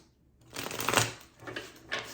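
A deck of tarot cards is shuffled close by in a few quick riffling bursts over about two seconds, with no talking.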